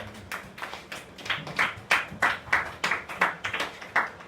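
A church congregation clapping in acclaim of Jesus, a steady run of roughly a dozen sharp hand claps at a moderate, even rhythm, fairly close and clear with no talk.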